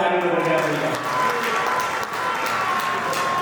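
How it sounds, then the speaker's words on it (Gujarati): An audience at a Shiv Mahapuran katha satsang in Nepal applauds the sound crew, with sustained clapping mixed with crowd noise and voices. "આ સાઉન્ડવાળા ભાઈ માટે એકવાર જોરદાર તાળીનો ગણગણાટ થાય"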